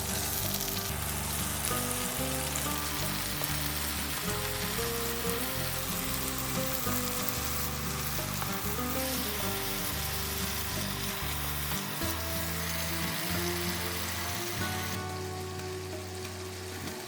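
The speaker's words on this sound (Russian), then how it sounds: "В сковородку льем масло. Выкладываем помидоры и перец." Tomatoes and peppers fry in oil in a pan with a steady close sizzle and crackle, continuous throughout, easing slightly at the end.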